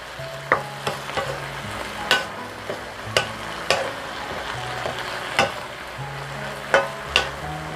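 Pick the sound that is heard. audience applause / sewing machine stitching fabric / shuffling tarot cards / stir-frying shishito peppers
stir-frying shishito peppers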